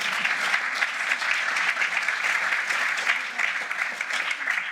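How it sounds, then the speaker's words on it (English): Steady applause from an audience at a start-up day event, dense and even clapping sustained throughout at moderate distance with no voices over it. "So I think you should give yourself a round of applause."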